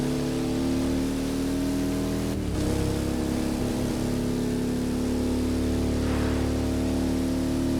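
Cars racing in the open-world driving game The Crew Motorfest: a steady, loud engine drone holds throughout, with a brief sharp dip and surge partway through as the revs shift.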